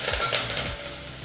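Chillies and curry leaves fry in hot oil for a tempering for holige saaru, giving a steady close sizzle with crackling pops and faint stirring throughout.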